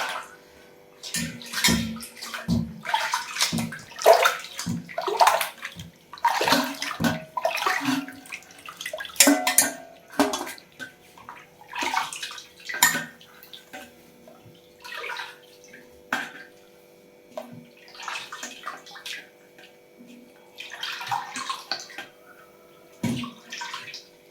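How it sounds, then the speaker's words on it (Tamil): Running water splashes and gurgles in irregular bursts as mutton is rinsed under a tap, close by, with no talking. "தண்ணி விட்டு அலசிக்கணும்"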